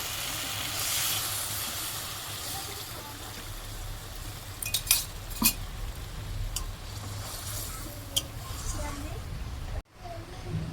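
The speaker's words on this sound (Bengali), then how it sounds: "এবার আমি জল দিয়ে দেবো এর মধ্যে।" Water poured into fried spice paste in a pan for a paneer curry gives a steady hiss and sizzle throughout, with a few sharp clinks, fairly faint and without clear talking.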